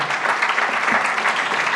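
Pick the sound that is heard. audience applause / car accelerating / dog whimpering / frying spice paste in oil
audience applause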